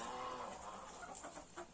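Chickens clucking close by, a steady stream of short calls and chatter with small bursts of louder clucks near the end.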